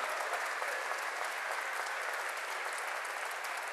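A show audience claps in a dense, even burst of applause lasting a few seconds, steady and moderately loud throughout, with no talking.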